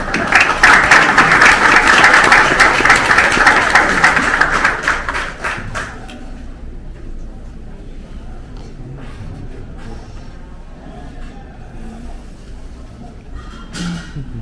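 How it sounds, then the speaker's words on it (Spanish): Strong applause for an invited speaker at a university lecture, loud dense clapping for about five seconds that fades out, leaving quiet room murmur. "pido un fuerte aplauso para nuestro invitado"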